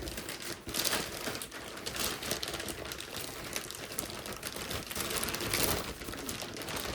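A plastic trash bag crinkles and rustles continuously and fairly close up in a storage unit, with dense irregular crackling and no talk.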